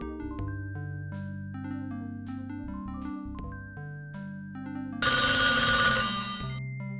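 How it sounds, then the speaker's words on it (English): Telephone ringing in the PC video game The Dark Half, repeated electronic bell rings in a steady rhythm over music, ending in a brief burst of bright, louder ringing, with no voices. "That's the phone. Yeah, I better answer it."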